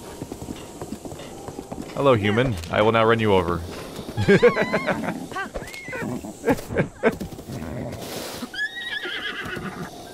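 A horse in The Legend of Zelda: Breath of the Wild, with clopping hooves and a few loud whinnies and neighs close by, under and between a man's speech.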